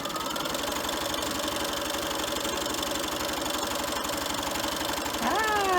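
A sewing machine stitches along the edge of a child-size fabric face mask, its motor humming in a steady fast rhythmic whir that speeds up slightly at the end.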